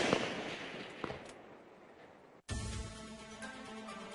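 Sniper rifle fire on a 300 m range at head and torso targets: a couple of sharp cracks with a faint tail, then a sudden cut to a louder, busier stretch of shooting-range noise.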